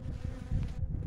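Honey bees buzz continuously around an opened hive, a close, steady droning hum with no voices over it.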